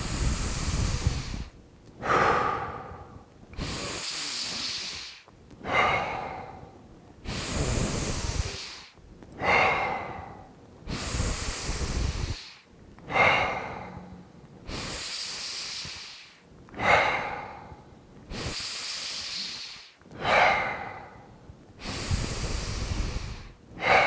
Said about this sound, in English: You do 30 breaths in succession.